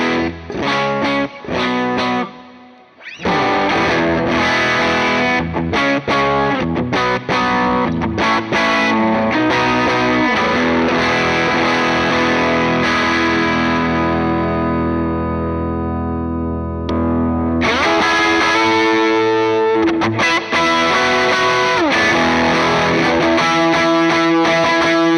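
Electric guitar run through a Lightspeed overdrive pedal on a pedalboard, loud and distorted, with choppy chords at first, a long ringing sustained chord in the middle, then renewed driven strumming.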